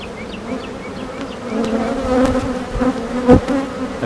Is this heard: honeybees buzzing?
yes